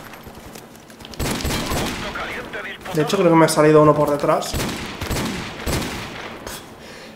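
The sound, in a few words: gunfire in video game Call of Duty Modern Warfare Remastered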